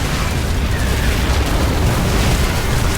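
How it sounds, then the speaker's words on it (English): Thor mechs firing in a StarCraft II battle against corruptors and Broodlords, a loud dense wall of booming explosions and rumbling bursts with no pause. "Nice firing there by the Thors"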